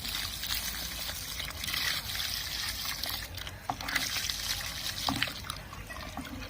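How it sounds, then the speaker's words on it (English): Water trickles and dribbles out as soaked cocopeat, prepared with seawater, is squeezed by hand, a faint wet patter in short bursts against steady background noise. "just to squeeze out the water"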